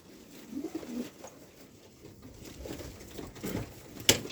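Antique-breed (Antika) pigeons, one with a white front crest, coo softly in low, rounded calls with light flutters and rustles, fairly quiet and close.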